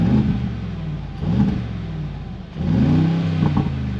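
A 2024 Mercedes-AMG G63 in Sport Plus with the exhaust valve open, revved three times in quick succession, each blip a loud, deep burbling rise and fall, close by.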